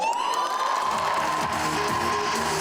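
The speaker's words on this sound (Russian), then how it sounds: "Дворец торжества имени Дагуна Амаева еще никогда не слышал таких оваций." An audience gives a sustained ovation in a large celebration hall during a KVN comedy show, a dense roar of cheering, whoops and shouts that stays loud and steady throughout, close and without pauses.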